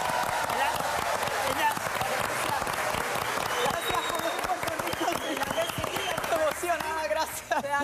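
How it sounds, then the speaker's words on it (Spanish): A live studio audience on a Spanish-language variety show breaks into loud, sustained applause, with music and voices mixing underneath the clapping. "Yo creo que debemos darle un aplauso a Linda por ayudar a Betty."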